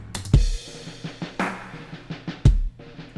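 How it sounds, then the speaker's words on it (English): Crash cymbal opening a section of a produced pop drum groove, a bright splashy hit over snare and kick beats, close and prominent without any talking. "I then added a crash to start the section."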